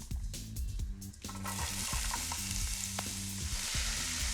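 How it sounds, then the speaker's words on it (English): Onions hit extra virgin olive oil in a hot pan, and a loud, broad sizzle swells up after about a second and holds steady over a low musical backing. "I'm gonna add a little extra virgin olive oil to a hot pan and add in my onions."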